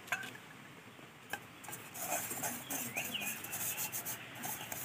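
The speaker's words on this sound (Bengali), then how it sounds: "পাত্রটা একটু তেল লাগিয়ে নিচ্ছি" Oil being rubbed by hand onto an aluminium cake pan, soft close scraping and brushing strokes that grow busier midway, with a couple of light metallic taps.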